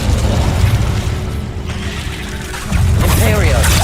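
Incendio fire spell cast in Hogwarts Legacy, a loud rumbling whoosh and boom of flames with a swelling burst near the end, under a spoken voice.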